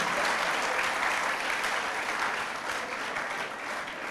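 A seated crowd at a Hindu devotional talk on the Hanuman Chalisa breaks into sustained applause, an even, continuous wash of clapping hands that holds steady and close throughout.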